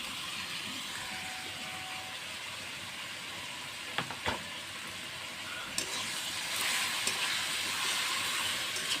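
Spice masala of chilli powder, coriander powder and salt fries in a pan for a paneer dish, giving a steady, moderately loud sizzle and hiss with a few sharp clinks of a utensil against the pan.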